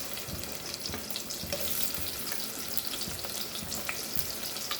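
Onion frying in oil in a pan for a Malvani chicken curry, a steady close crackling sizzle with small pops and scrapes throughout, no voices.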